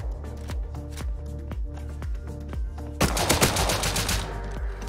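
Rapid gunfire in the survival game Rust, a regular burst of loud close shots followed by a denser, harsher volley of overlapping fire.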